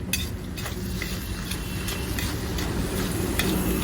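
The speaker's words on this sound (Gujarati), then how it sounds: "હવે એને પ્રોપર તરીકે મિક્સ કરી લઈશું આપણે." Spices are mixed into moong dal pulao in a pot. A steady, close scraping and stirring runs under a constant sizzle, with occasional light clinks of a utensil and no speech.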